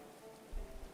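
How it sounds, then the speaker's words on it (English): Autumn rain in the medieval colony-building game Going Medieval, a soft steady patter of drops on surfaces, faint and continuous, swelling slightly halfway through. "Got some autumn rain coming on right now."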